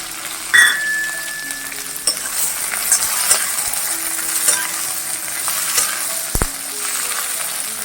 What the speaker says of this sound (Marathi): चांगले तेलामध्ये परतून घेते